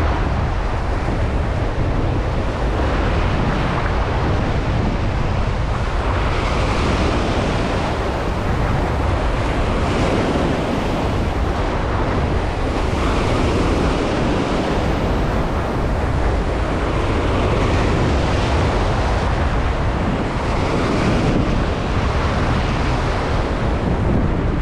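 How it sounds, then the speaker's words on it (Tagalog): Strong wind buffets the microphone on a fishing shore while waves wash in, a dense, continuous roar of gusts and surf that stays loud throughout with no voices. "lakas talaga ng hangin"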